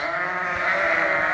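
A sheep on a farm lets out a single sustained, wavering bleat, close and loud, lasting the whole moment with no other voices.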